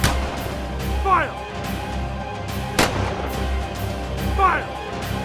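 Artillery or cannon firing on command, with sharp booming blasts spaced a few seconds apart, each trailing into a rumbling echo over a steady low background.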